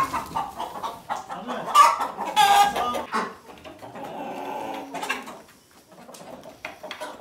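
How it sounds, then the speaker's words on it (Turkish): Chickens cluck and call repeatedly at close range, a busy farmyard flock of slaughter hens with bursts of louder squawks over a steady chatter. "Tavuklar geldi arkadaşlar."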